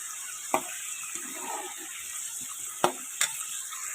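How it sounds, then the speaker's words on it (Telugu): Amla roasting in a pan, a quiet steady sizzle with a few sharp clicks and taps of a spoon against the pan, close and alone without talk. "ఈ కలర్ వచ్చే వరకు నేను రోస్ట్ చేసుకుంటున్నాను"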